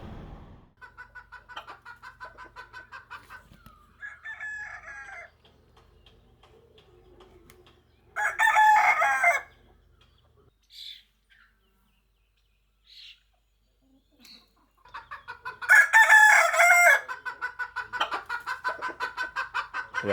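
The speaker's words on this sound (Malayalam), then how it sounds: "കോഴി കൂകണ ശബ്ദം" A rooster crows loudly twice, each a long raspy call several seconds apart, amid softer clucking from hens and rhythmic pulsing background calls outdoors in the morning in New Zealand.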